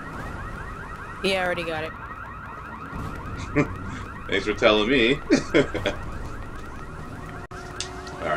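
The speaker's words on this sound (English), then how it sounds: "Let's shut this fucking alarm off." Car alarm blaring in Resident Evil 6, a loud warbling, cycling siren that repeats through the clip while someone talks briefly over it.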